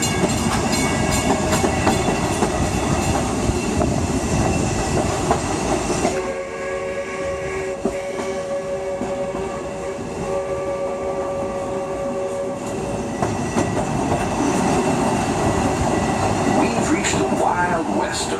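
A train rumbles steadily along the rails with a continuous clatter and hum, loud and close, easing into a quieter stretch midway before the rolling noise swells again; the Walt Disney World Railroad circling the Magic Kingdom.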